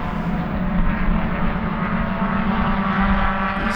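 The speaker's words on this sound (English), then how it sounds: "You guys see that jet take off" A jet taking off from Sebring airport, beside Sebring International Raceway, produces a loud, steady engine drone with a sustained low hum that holds throughout.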